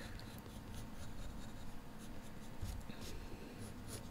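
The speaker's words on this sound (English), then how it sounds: "You can actually get the pencil and use harsher strokes on it" A pencil scratches across paper in steady, continuous strokes while a cartoon character is sketched. The sound is soft and close, with no voice over it.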